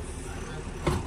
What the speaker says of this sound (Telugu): మధ్యలో బ్రిడ్జ్ మీద ఫుల్ ట్రాఫిక్ అయింది.